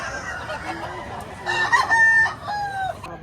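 Roosters crow at a busy chicken market in Lipa, Batangas, with one drawn-out crow rising loud and close midway, other fowl calling around it over steady crowd murmur.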